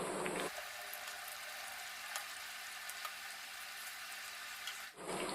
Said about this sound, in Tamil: அது வரைக்கும் நம்ம வந்து நல்லா பொரிய விடணும் எண்ணெயில்.